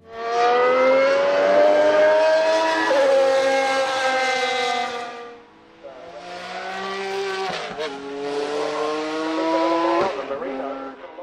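Singer Porsche with a flat-six engine developed by the Williams F1 team revs hard, a loud rising wail held for several seconds, a brief dip, then further climbing revs with quick gear-change blips.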